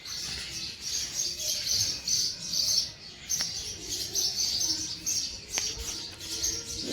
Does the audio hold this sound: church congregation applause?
no